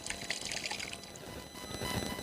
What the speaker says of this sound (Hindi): इस बोतल में आप लोग देख सकते हैं कि इन्होंने पानी गिरना शुरू कर दिया है।